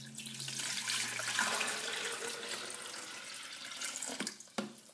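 Water pours steadily into a pitcher for an iced tea brewer, a continuous close splashing rush that tapers off with a couple of knocks at the end.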